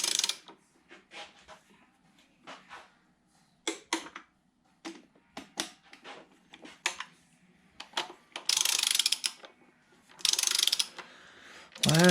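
Torque wrench set to 7.5 foot-pounds tightening water pump bolts: a series of sharp metallic clicks and ratcheting bursts, irregular and close, with a couple of longer, brighter rasping stretches near the end.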